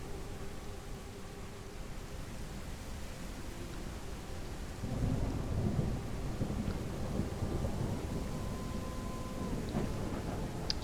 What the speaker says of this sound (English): it's raining, it's thundering and lightning.